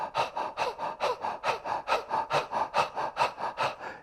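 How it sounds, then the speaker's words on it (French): Deep, forceful breathing during a chakra breathing meditation, heard up close as a fast, even rhythm of about nine in-and-out breaths with audible rushing air and no talking. "Aller dans la respiration pour être présente dans la gorge."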